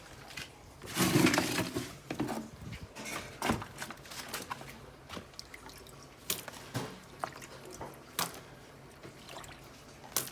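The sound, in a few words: water dripping in a paludarium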